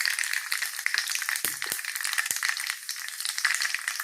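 Mustard seeds and a few dried red chillies frying in hot sesame oil in a pan: dense, crackling sizzle with sharp pops and a couple of clanking stirs, close and loud.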